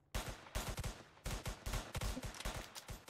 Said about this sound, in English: Oh, shots fired at our vehicle.